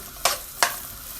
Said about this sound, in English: just stir that up just a little bit